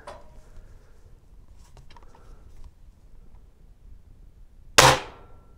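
An Air Venturi spring air gun fires once, a single sharp crack near the end after faint handling clicks, with no talking.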